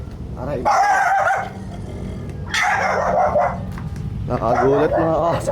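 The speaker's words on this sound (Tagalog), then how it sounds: "Nakagulat mga aso dito. Bigla-biglang kumakahol." Several loud dog barks burst out in quick clusters, close by, with a brief pause between bouts and some background noise.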